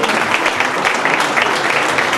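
Dense, steady applause from a crowd at a provincial cycling federation festival in Castelvecchio Calvisio, loud and continuous throughout without a break.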